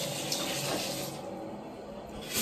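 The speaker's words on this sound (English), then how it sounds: "let me turn on the shower" A shower runs as a steady, close hiss of spraying water that shifts slightly in tone partway through, with no talking.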